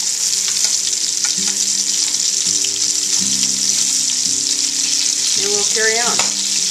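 Beef pieces sizzle and fry steadily in a hot pan for beef bourguignon, a constant loud hiss with occasional clinks of a utensil scooping and a brief spoken line near the start.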